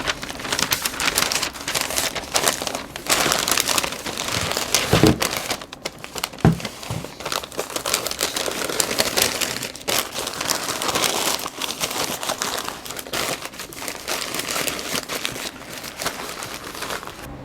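Butcher paper crinkles and rustles continuously as beef ribs are wrapped beside a Pit Boss Navigator pellet grill, a close, steady papery crackling with a few sharper crumples.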